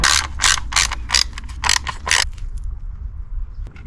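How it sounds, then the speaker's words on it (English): A ratchet on a 2010 Audi A3 1.6 TDI, tightening the new oil sump plug with about seven quick, close clicking pulls in a steady rhythm, followed by quieter handling. "Refitting the new sump plug."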